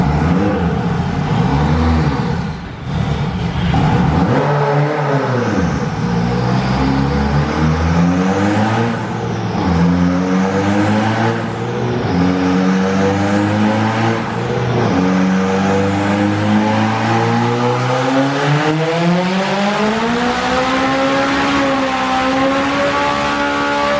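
A turbocharged K20-engined Honda NSX race car fitted with a Garrett G30-770 turbo, revving hard on a dyno: a loud, close engine note that climbs and swells steadily through repeated pulls, with a whistling turbo whine on top.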